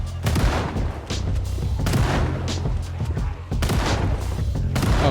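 Rapid, dense gunfire from a shooting montage in Project Zomboid, repeated bursts of shots and booms crowding close together over a steady low rumble with no gaps of quiet.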